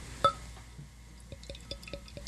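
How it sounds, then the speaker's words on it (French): Duvel Tripel Hop Citra beer being poured into a glass, with a soft trickle, a clink near the start, then a run of small, evenly spaced fizzing drips and pops at close range. "je vais essayer de verser la mienne"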